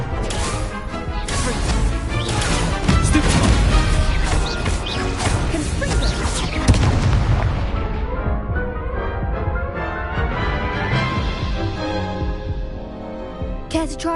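An Incendio fire spell blasts during combat in the Hogwarts Legacy video game, a dense, loud run of crashing, whooshing impacts and layered game effects that swells, then thins out toward the end, with a brief voice somewhere in the mix.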